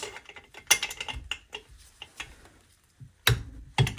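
Torque wrench tightening muffler bolts on a Jonsered 625 II chainsaw during a rebuild: close, crisp ratcheting clicks in short runs, then a couple of sharp snaps as the wrench reaches its set torque.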